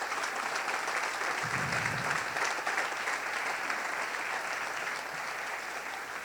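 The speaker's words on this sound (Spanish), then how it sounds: "Dale otro gran aplauso a nuestro Rey" A church congregation gives sustained applause during a Sunday service, a broad, steady roar of many clapping hands that stays even throughout, with a brief low thump partway through.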